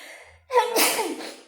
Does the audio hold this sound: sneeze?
yes